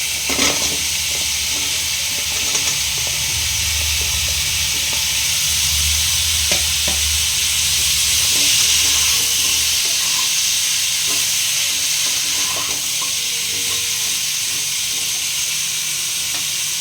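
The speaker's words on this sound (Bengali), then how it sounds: "এটা আমি ভালোভাবে কষে নেব ঢাকনা দিয়ে।" Potato and papaya curry fries in a pan with Kashmiri chili powder, a steady broadband sizzle running throughout while a utensil stirs with soft scraping clicks, close and continuous with no talking.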